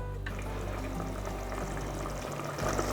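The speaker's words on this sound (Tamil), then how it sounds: "பாருங்கள் ஒரு கொதி வந்துருச்சு இல்லையா" Brinjal curry (kathirikkai kuzhambu) simmering and coming to a boil in a pot, a steady bubbling and hissing wash that holds throughout at moderate level, swelling slightly near the end.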